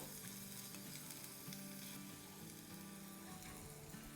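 Garlic paste, cumin seeds and chopped green chilies sautéing in a pan, a soft continuous sizzle with faint stirring, quiet and steady throughout.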